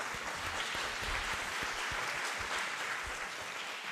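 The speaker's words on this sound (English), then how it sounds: "And big applause for those who survived." A large conference audience of several hundred gives sustained applause at a water-themed event, with individual claps standing out within a thick, continuous roar of clapping.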